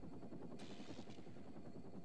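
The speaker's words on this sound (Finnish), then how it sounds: "Ohjattavuus tässä helikopterissa on aika järkyttävä." A helicopter in the LEGO Rock Raiders video game gives a steady, dense rotor chop throughout, with a brief brighter hiss partway through, no voices.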